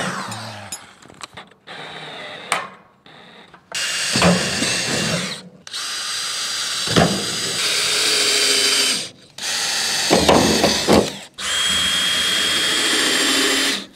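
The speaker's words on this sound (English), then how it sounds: "So we gotta pre-drill it." Power drill pre-drilling through a ribbed metal roof panel, several loud high-pitched whirring bursts of a few seconds each, separated by short pauses.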